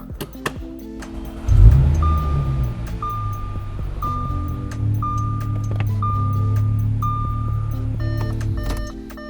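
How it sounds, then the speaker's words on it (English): An Audi S4 of the B8 chassis (2010-2016) cranks and starts, then settles into a steady idle with a loud low rumble as a repeating warning chime sounds over it. "we'll start the engine real quick"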